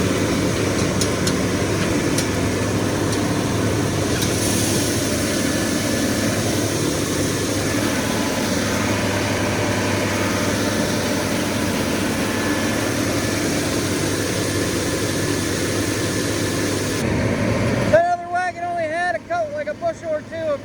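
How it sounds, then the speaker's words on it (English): A running tractor drives a feed grinder processing corn, a steady low mechanical drone and rumble with constant whir, loud and close, while someone talks over it; the machine noise cuts off abruptly near the end, leaving his voice. "so we're going to run the rest of this wagon into the grinder"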